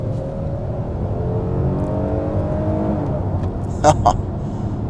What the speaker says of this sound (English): Throwing it in, it feels sharp on the gas.